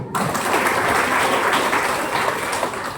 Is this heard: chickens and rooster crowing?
no